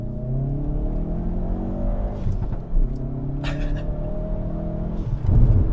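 A Hyundai i30N turbo hot hatch engine drones steadily from inside the car, its pitch sweeping up and down as it revs, with short throttle blips from the auto rev-matching near the middle and at the end.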